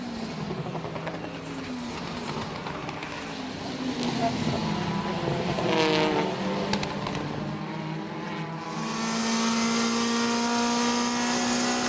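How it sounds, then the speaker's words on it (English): Jose Maria Lopez's Citroën WTCC race car, heard from on board in the 2014 season, roars loudly and steadily as it passes Rob Huff's Lada, with engine pitch climbing through the gears. A commentator talks over it, and a louder wash of crowd noise builds near the end. "On board with Jose Maria Lopez, breezing straight past the Lada of Rob Huff."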